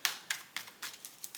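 Playing cards are shuffled in quick, crisp riffling bursts, about seven short snaps at a loose, uneven rhythm, close and quiet, with no talk.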